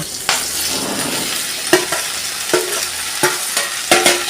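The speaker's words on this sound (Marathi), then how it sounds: "भेंड्या हलवून घेऊया" Okra stirred in hot ghee with cumin seeds, green chili and chili flakes, a steady close sizzle broken by several sharp spoon scrapes against the pan.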